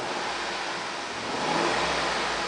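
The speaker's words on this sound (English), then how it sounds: "The car is running right now. So let's go ahead and rev it." A 5.3 liter V8 flex-fuel car engine with 66,045 miles revs up steadily, its broadband roar swelling louder toward the end of a short burst, close by with no talk.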